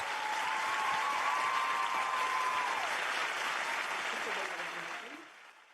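A large crowd at a peace festival claps steadily and loudly for several seconds, then the applause gradually fades out.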